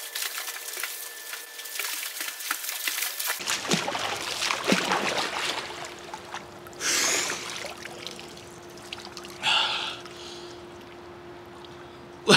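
Someone swims laps in a cold pool: a run of close watery churning gives way to quieter stretches marked by two short surges of splashing.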